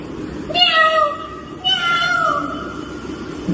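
A person mimics a cat, giving two drawn-out meows, the second longer and sliding downward, close up and alone.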